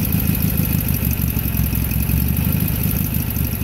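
A Kohler Series 2 engine on a 1981 John Deere 317 garden tractor runs loud and close with an uneven, stumbling misfire beating through its steady drone, no talk.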